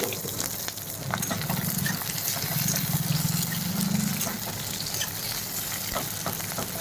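Onions fry in hot oil in a home kitchen, a steady crackling sizzle that holds at an even level throughout, close and moderately loud, with a faint low hum underneath.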